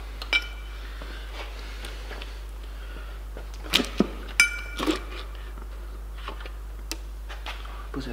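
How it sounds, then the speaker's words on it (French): A spoon set down on a workshop workbench during car engine repair gives faint metallic clinks and ticks, a few sharper taps spaced irregularly over a quiet, humming background. "Poser la cuillère sur l'établi"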